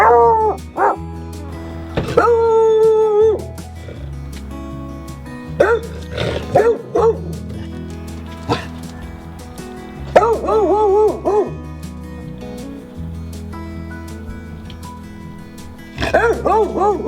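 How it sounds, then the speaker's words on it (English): A pet dog barks and yips in repeated short bursts, with some whimpering howl-like cries, close by under a steady musical backing. "he barks almost every single day"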